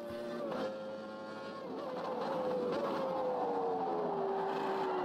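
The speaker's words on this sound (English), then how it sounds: "Well, I hate that TC noise though." Traction control on a race car in the Automobilista 2 racing sim gives a steady, loud buzzing whine that slides slowly downward in pitch over the engine drone, with no talk.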